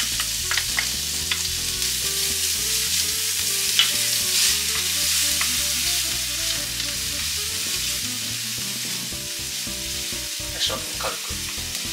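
Pork fillet sautéing in melted butter in a pan, a continuous bright sizzle with irregular stirring and scraping moves running throughout, close and fairly loud with no voices.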